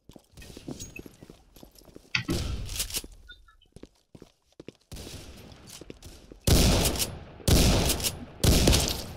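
Gunfire in the Roblox shooter Counter Blox: scattered game shots early on, then several loud, dense bursts of rapid fire near the end, with quieter stretches and footstep-like clicks between.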